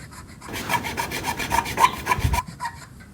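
A coarse horse rasp files a goat's hoof in one steady burst of rapid back-and-forth scraping strokes, close and loud, lasting about two seconds with no talking.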